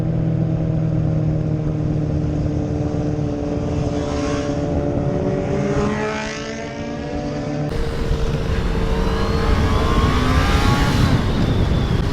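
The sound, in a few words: sport motorcycle revving, Kawasaki ZX10R or Honda CBR650R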